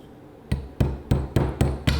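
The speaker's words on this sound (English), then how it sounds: "knock that roll pin in, and then finish it off with a roll pin punch" A hammer knocks a roll pin into an M9A3 pistol during a conversion install, giving six crisp, close metallic taps at a quickening, fairly even rhythm in a quiet room.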